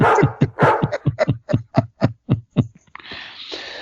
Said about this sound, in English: I'm going to hit my dog upside the head if she don't stop barking here